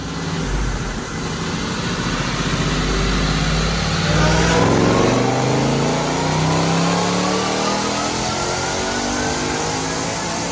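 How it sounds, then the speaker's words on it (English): A supercharged 2025 Ford Mustang engine with manual transmission revs up steadily on a dyno, its pitch climbing over several seconds in one long sustained pull, loud and close, then holding near the top. "Check out this dyno pull."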